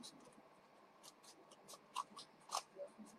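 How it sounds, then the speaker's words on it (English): Scissors snipping a paper spiral for a recycled craft, a series of faint, crisp cuts spaced unevenly, with a couple of sharper snips standing out against a quiet room. "and you're going to cut a spiral"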